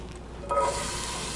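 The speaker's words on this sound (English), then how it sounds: "if your oil's hot, you should get a nice sizzle when you go in the pan" Onions and carrots drop into a pan of hot oil and a soft, close sizzle rises, hissing steadily after a brief clatter.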